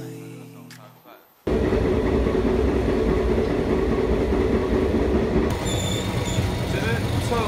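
An Indian overnight sleeper train runs along the rails, a loud steady rumble and rattle of carriages with a faint wheel screech, starting abruptly after a brief quieter moment of voices.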